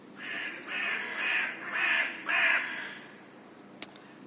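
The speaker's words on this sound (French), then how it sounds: "Je ne savais pas que j'avais donné rendez-vous aux corbeaux ou que eux m'avaient donné rendez-vous." Crows caw in a run of four or five harsh, evenly spaced calls, fairly close and loud, then fall quiet, leaving a single sharp click.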